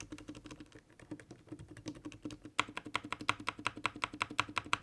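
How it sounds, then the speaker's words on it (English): Typing on a Gamakay TK75 mechanical keyboard with clicky switches: quiet, steady rapid keystrokes that turn into louder, sharper clicks partway through, heard close up with no voices. "These are the slightly louder clicky switches, which you will see."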